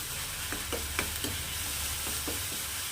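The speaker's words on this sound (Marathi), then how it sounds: "आणि या मसाल्याला छान परतून घ्यायचा आहे" Ground masala paste sautéing in oil for a drumstick (shevga) curry, a soft steady sizzle with several light stirring scrapes, fairly quiet and close, no speech.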